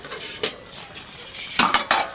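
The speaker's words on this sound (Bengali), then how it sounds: "তরকারিটা একটু নাড়িয়ে দেব" A spoon scrapes and knocks against a pot while stirring a taro and fish curry, a few sharp metallic clinks set apart by quieter scraping, close by with no talking.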